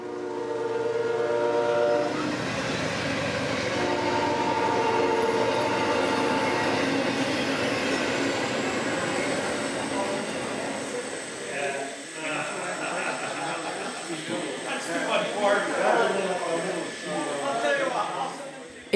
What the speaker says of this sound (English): the noontime parade continues as I-137 shows up next, with plenty of intermodal out of Charlotte for Jacksonville